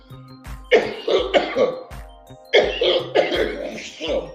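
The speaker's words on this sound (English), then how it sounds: "I got a cough too today, y'all." Two bursts of harsh, repeated coughing, several hacking coughs each, close and loud with a short pause between the fits.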